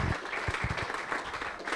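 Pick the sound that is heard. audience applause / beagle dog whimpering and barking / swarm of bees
audience applause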